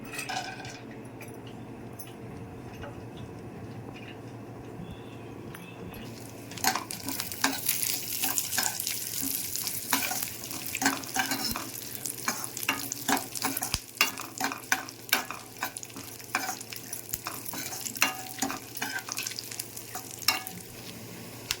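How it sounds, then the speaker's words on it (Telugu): Dry fruits frying in ghee in a pan, with a steady sizzle and repeated stirring clinks of a spoon against the pan, starting quietly and growing louder after a few seconds. "ప్యాన్ పెట్టుకొని నెయ్యి హీట్ చేసుకొని డ్రై ఫ్రూట్స్ వేయించుకోవాలండి"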